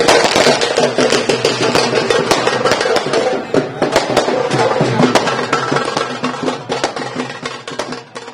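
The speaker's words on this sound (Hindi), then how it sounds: "बीजेपी के नेता और समर्थक कार्यकर्ता यहाँ आतिशबाजी कर रहे हैं" Loud firecrackers set off by BJP supporters celebrating an election win crackle and pop in rapid, dense bursts, a continuous barrage of sharp bangs close by with crowd noise mixed underneath.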